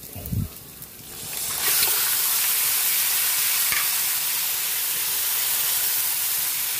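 Pork and onions hitting a hot pan: a brief clatter, then a steady loud sizzle and hiss that rises and holds, with a couple of faint scrapes from stirring.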